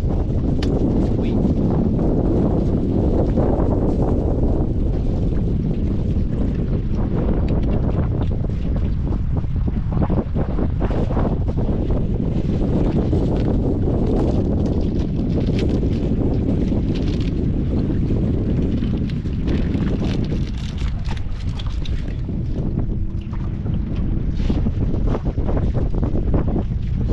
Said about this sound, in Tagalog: May bangka na naman palapit